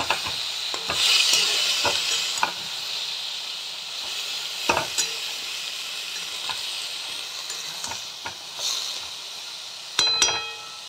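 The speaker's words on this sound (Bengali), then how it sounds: "দেখো এবার শাকগুলো দিয়ে দেবো। শাকের সঙ্গে মূলো আছে, অর্ধেকটা মূলো নিয়েছি, এটা সাদা মূলো" Radish greens and white radish are stirred in a pan, sizzling steadily close by, with a spatula scraping and clinking now and then and a few sharper taps near the end.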